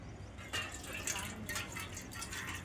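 Water is poured from a container onto a plate set down for a dog, giving a light splashing, dripping trickle that carries on steadily for a few seconds close to the microphone.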